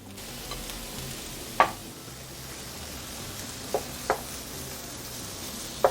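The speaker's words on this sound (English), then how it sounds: "I'm gonna move them over, and I'm gonna put in my ribeye steak" A ribeye steak sizzles in a pan beside onions that have cooked until slightly translucent, with a steady close frying hiss and a few sharp pops and clicks standing out.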